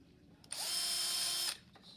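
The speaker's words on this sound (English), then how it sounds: "I'm going to drill 2 holes in 2 of them." A power drill whirs in one steady, loud burst of about a second, starting and stopping abruptly, with a quiet room around it.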